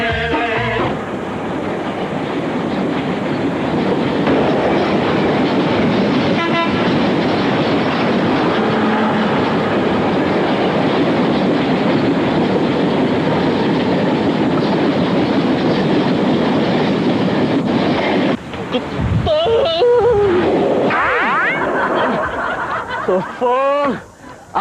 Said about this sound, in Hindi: आज फिर मिस हो गई मेरी ट्रेन।